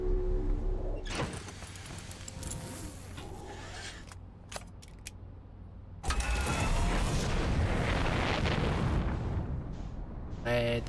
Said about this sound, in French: Je crois que le soleil explose